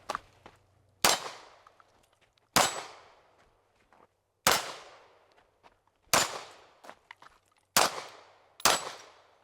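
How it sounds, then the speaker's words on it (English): A Staccato CS pistol fires six sharp gunshots at a shooting range, spaced one to two seconds apart, each a loud, close crack with a short decaying echo. "The STACCATO shooting it"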